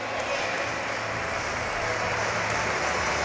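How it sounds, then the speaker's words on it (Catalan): A Valencian pelota crowd at a raspall match in Xeraco gives a player strong, sustained applause, loud dense clapping filling the whole stretch with crowd murmur beneath. "i que rep un fort aplaudiment per part de l'afició"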